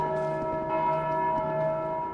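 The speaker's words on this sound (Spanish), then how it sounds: "Tocaron la campana" A large bell tolls in the video game Dark Souls 2, one sustained ringing note with a long humming decay, loud and alone without voices.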